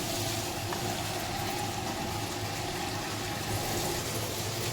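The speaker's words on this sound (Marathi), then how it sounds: "परतून झाल्यावर साधारण आपली भाजी भिजेल ना तेवढं पाणी टाकायचं" Water poured into a pan of spicy bean pod (pawta) curry on the stove, a steady, continuous splashing and filling sound at close range with no talk.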